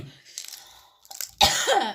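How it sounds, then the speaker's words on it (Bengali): A person coughs once, sharply and close, near the end after brief quiet rustling and faint breathy sounds. "এই কাশি হয়েছে রে একটা ছেড়ে একটা লাইগেই আছে"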